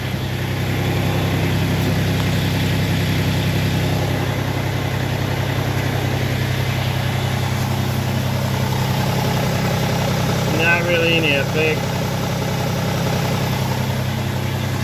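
A Massey Ferguson GC Series compact tractor engine idles steadily and close by, a constant low drone that runs unchanged throughout, with brief speech near the end.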